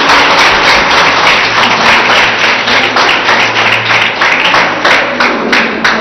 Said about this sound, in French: Pour Elias, on applaudit Abdourahim, s'il vous plaît